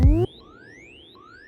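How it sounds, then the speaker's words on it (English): A synth sine-wave patch in a hypnotic techno production: after a short loud burst of another sound, thin pure tones glide slowly upward in repeating sweeps, faint and steady over a low background. "I think here I also have this sine wave sound"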